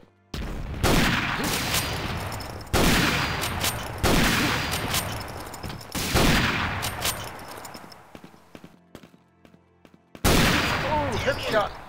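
Gunfire in the retro shooter Quake 2, several loud bursts of shots separated by short gaps, with players shouting and reacting over the action.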